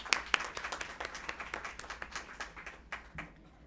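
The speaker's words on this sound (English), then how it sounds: "Please give him a huge round of applause." Scattered audience applause at a university event: individual hand claps in a quick, uneven rhythm, fairly faint and thinning toward the end, with no talking over it.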